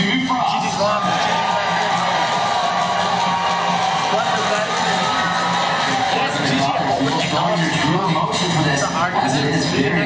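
Esports arena crowd cheering and whooping, a dense, loud roar that persists beneath an announcer talking over it.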